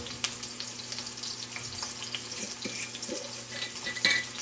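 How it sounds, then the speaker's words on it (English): Potatoes frying in hot oil in a pan for a Bengali fish curry, a close steady sizzle with scattered crackles and brief stirring clinks, no talking. "I'm going to fry these potatoes nicely until they are nicely fried and they get that golden color"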